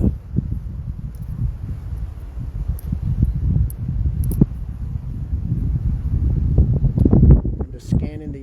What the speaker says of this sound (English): It's so windy out here and hard to hear.